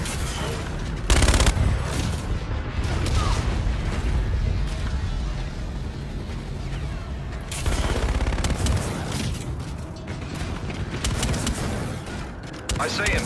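Gunshots in a shooting video game: bursts of loud gunfire punch through a constant backdrop of battle noise, with heavy volleys near the start and again in the middle, close and harsh.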